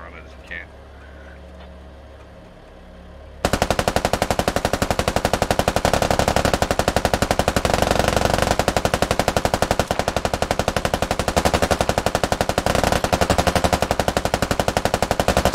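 Machine gun fire pours onto fortifications in the SquadOps military shooter, starting after a quiet stretch and then hammering on as a dense, sustained, very loud stream of rapid shots with no pause.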